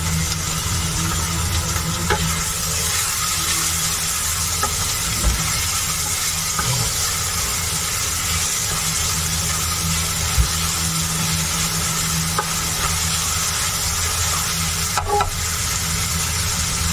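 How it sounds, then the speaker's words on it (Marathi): Onions frying in oil with garlic, a continuous dense sizzle with faint stirring clinks throughout, close and steady, with no one speaking. "कांदा पण आपल्याला ब्राऊन कलर येईपर्यंत भाजायचं."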